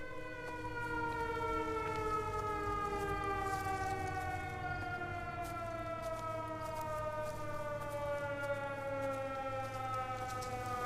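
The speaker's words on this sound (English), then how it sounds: "that siren is getting very annoying" A siren wails continuously in the Everybody's Gone To The Rapture video game, a long, slowly falling civil-defense tone over a low steady hum, alone and moderately faint.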